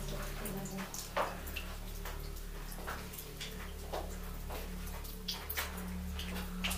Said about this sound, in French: Attention, c'est mouillé là. Ça coule.